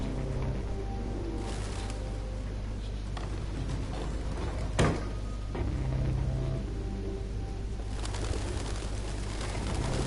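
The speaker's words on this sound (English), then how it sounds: "They've got the sounds and the looks just right of the pigeons." Pigeons in Detroit: Become Human coo softly in a continuous ambient scene, low murmuring calls under steady background noise with a brief thump midway.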